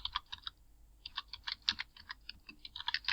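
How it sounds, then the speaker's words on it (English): Typing on a computer keyboard in a school library catalog search, rapid irregular clicking keystrokes in short bursts with brief pauses, close and clear with no talking. "I'm going to type his name"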